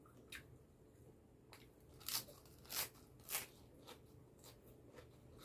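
Crisp napa cabbage is bitten and chewed up close, a few sharp crunches standing out over a quiet background, followed by softer, scattered chewing sounds.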